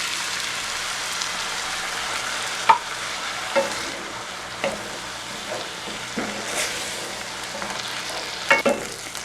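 Sauce hits stir-fried shrimp and egg in a hot pan, making a steady, soft sizzle broken by scattered clinks and scrapes of stirring.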